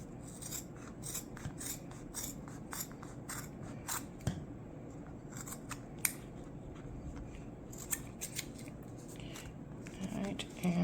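Sharp scissors trim the fabric of a handmade luggage tag, a close, steady run of crisp snips repeating over about eleven seconds, with low murmuring in the background.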